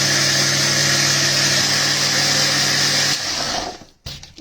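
A mixer grinder whirs loudly and steadily as it grinds dosa batter, then slows and cuts off near the end with a brief restart.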